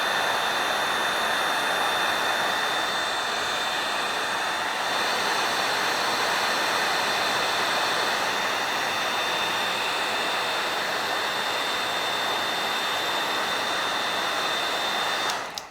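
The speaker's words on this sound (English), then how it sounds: "Now you want to keep the heat gun moving during this process" A hot air heat gun blows steadily onto wood painted with scorch paint, giving an unbroken close, loud rushing whoosh with no pauses.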